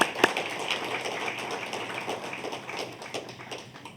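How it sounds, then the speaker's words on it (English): Dinner guests at a university alumni awards evening give the catering staff a round of applause, a soft scatter of claps in a room that tapers off over a few seconds. "They deserve a big round of applause"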